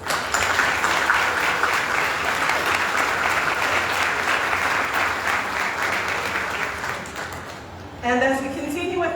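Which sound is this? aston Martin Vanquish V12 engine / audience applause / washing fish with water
audience applause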